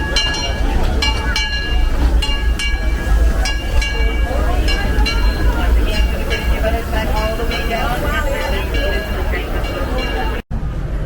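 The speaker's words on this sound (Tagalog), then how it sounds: "parating ng bagong train" A park train pulls in at Disney California Adventure, with a steady rolling rumble, metallic clinks and ringing tones up close, while a crowd's voices carry underneath.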